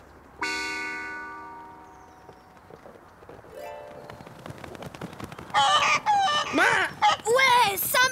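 Cartoon chickens cluck and squawk in a rapid, loud burst near the end, following a horn-like musical toot and scattered clatter from a French-language children's animated series.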